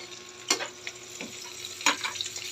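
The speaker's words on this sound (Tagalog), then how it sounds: "Tapos ito nagluluto tayo ng tuyo." Dried fish (tuyo) fries in a home kitchen pan, a soft steady sizzle broken by a few sharper pops and stirring scrapes, close and quiet with no talk.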